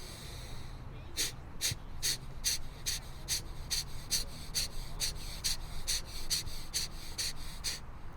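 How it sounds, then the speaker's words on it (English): Rapid oxygenating breaths from a breathing exercise come as a quick, even series of about seventeen sharp, airy puffs, close to the microphone, over low background hiss. "for a total of 90 oxygenating breaths"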